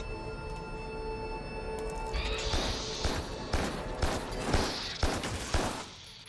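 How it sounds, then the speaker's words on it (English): Gunfire aimed at the player in the video game Carrion, a series of sharp, loud shots and impacts in irregular bursts following a steady electronic hum. "Who's shooting me?"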